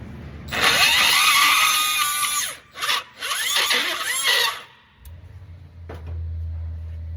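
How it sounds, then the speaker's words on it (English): A loud power drill whines steadily for several seconds with a brief pause, drilling out a broken, rusted bolt on a Mercedes control arm with a 1/8 bit, then stops, leaving a low hum and a faint click. "So we're just gonna drill it out and insert it."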